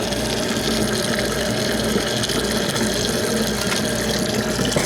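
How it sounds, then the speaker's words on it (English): Water gushes steadily through a beer keg being rinsed out at a slop sink, a constant rushing, filling flow with a low pump-like rumble underneath and no voices. "give the keg a good rinsing"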